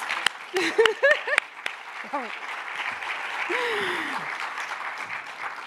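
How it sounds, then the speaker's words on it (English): Applause from a lecture audience at an art talk swells and holds steady, with a voice calling out a few excited words over the clapping. "Clap it up again, folks."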